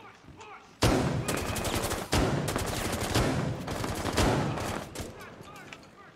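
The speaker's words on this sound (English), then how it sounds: "Joy is firing in that way way too much" Rapid gunfire rattles through a Rainbow Six Siege match, dense bursts of automatic shots and single cracks, loud and close, continuing for several seconds with occasional voices in the mix.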